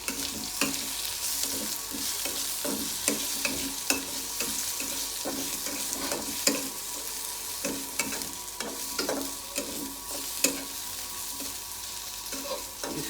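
Fresh yogurt added to a hot pan over high heat, giving a continuous crackling sizzle with frequent small pops and scraping stirs, close and steady for several seconds without speech.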